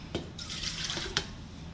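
Water runs from a tap into a mixing container for a travel apple cake batter made with eggs and oil, a short steady splashing stream with a couple of sharper knocks.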